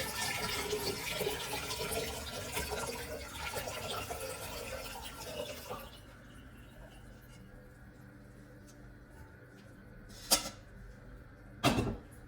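Strained tea pours and splashes steadily into a litre of water in a container for several seconds, then stops, followed by a couple of sharp knocks.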